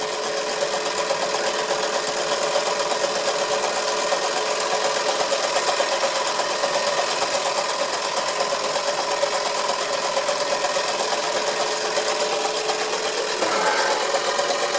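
Wilesco D141 toy steam engine running steadily while driving a small drill, a continuous buzzing mechanical whir with a fast, even rhythm, close and fairly loud with no talk.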